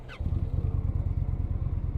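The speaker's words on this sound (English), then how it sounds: "Even when you crank it up with its stock exhaust, it's still giving it a little bit of rumble" An Indian Challenger motorcycle on its stock exhaust revs up after a brief high chirp, then settles into a loud, close, rhythmic engine rumble with steady pulsing beats.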